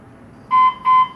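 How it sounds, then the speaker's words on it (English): An AED defibrillator sounds its alarm after detecting motion, two loud, identical electronic beeps in quick succession against a quiet background. "There's the alarm that I told everybody about that's going to go off."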